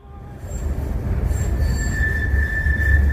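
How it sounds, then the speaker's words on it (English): A train on the oldest line of the Budapest metro rolls along with a constant low rumble, and a high wheel squeal rises and holds toward the end, heard from inside the car. "I'm now on the oldest of the Budapest metro lines"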